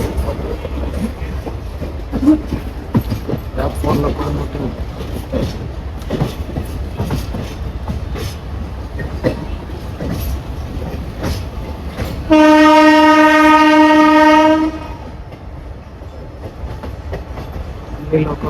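A train pulls in at the outer signal near Vijayawada Junction, its rumble and clatter running steadily before a loud, sustained horn blast of about two seconds, then quieter rolling.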